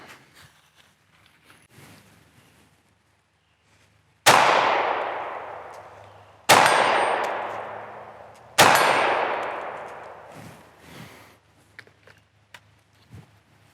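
Three sharp pistol shots from a Sig P365 9mm ring out on steel targets at 35 yards, each a loud crack with a long ringing decay, spaced a couple of seconds apart.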